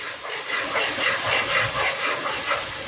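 Onions fry in hot oil for a lobster malai curry, producing a steady, close sizzling hiss that swells gently without pause.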